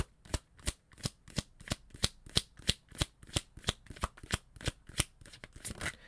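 A deck of oracle cards is riffled and shuffled in a steady series of about fifteen crisp, evenly spaced flutters, close and clear with no voices.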